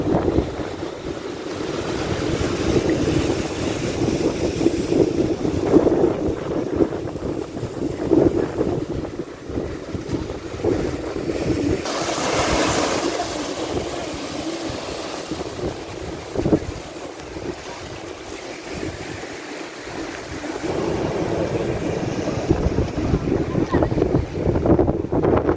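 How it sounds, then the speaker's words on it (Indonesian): Ocean waves and wind at a beach in Bali, a broad steady rush of surf with gusting wind buffeting the microphone, continuous and fairly loud throughout with occasional faint voices. "Di sini ada ombak-ombak ya guys."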